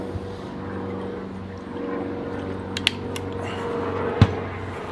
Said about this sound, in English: we got a plane.